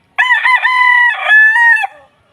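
A gamefowl rooster in a backyard cockfighting farm lets out one loud, close crow lasting about two seconds, followed by silence.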